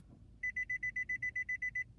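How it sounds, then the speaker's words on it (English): A 2015 Nissan Altima sounds a rapid series of about twelve short, even electronic beeps as smart key programming mode closes, clear and alone over a faint low background. "we should get a buzzer to indicate that we're closing out the programming mode"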